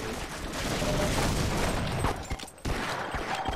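Shotgun fire in the game Half-Life, with loud close blasts and heavy gunfire packed into a dense burst before a brief gap and a further shot.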